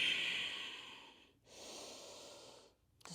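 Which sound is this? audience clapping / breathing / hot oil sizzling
breathing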